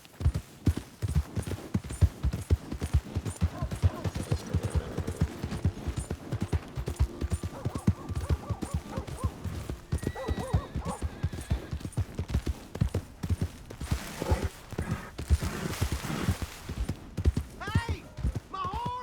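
Horse hooves clip-clop steadily in Red Dead Redemption 2, a fast continuous trot running through the whole stretch beneath game music and bursts of speech.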